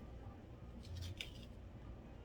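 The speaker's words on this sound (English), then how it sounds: "And then I'll take my scissors." Scissors snipping ribbon during a crafting demonstration, a brief faint cluster of close snips over a quiet, hissy background.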